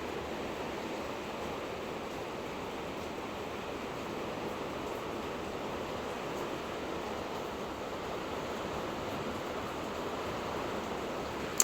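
Steady, dense rush of wind-driven rain, a constant broadband roar with no letup and no voices.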